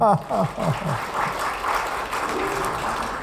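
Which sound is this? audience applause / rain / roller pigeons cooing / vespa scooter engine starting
audience applause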